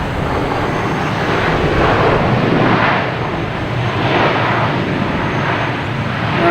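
An American Airlines airliner arriving at Boston Logan Airport, its loud, steady broadband jet roar filling the whole stretch with slight swells and no talk over it.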